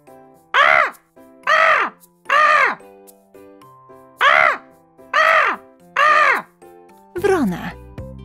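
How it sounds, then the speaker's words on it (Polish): A crow gives six loud, harsh caws at a steady, evenly spaced rhythm, followed by a final rougher call. "Wrona."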